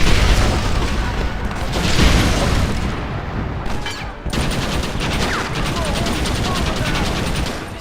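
A Gatling gun in Red Dead Redemption on PC fires loud, heavy booms followed by a long, rapid, rattling stream of shots, close and continuous.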